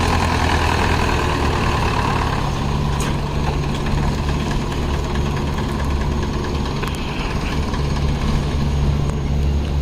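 A heavy, very old-model tractor engine of about 40 hp idles steadily nearby at a sugar mill, a loud low rumble with a constant knocking throb and no break for the whole stretch.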